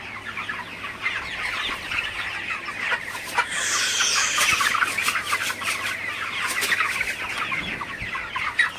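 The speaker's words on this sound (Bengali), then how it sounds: "হচ্ছে আমার বড় মুরগিগুলা।" Several large hens cluck and murmur nearby in a steady, busy chorus, with occasional louder squawks.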